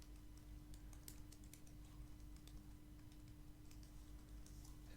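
Fingers type on an aluminum keyboard built like a unibody MacBook, producing very faint, soft, irregular key taps over a low steady hum, with no one speaking.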